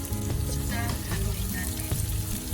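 Onions hitting a hot pan after garlic browned golden, a brief steady sizzle with light clattering, close and continuous.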